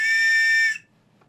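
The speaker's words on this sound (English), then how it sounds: "This is a whistle that has no balls in it, and it whistles whether it's wet or otherwise." A pealess safety whistle gives one loud, piercing, steady blast close up, cutting off sharply after less than a second, then near silence.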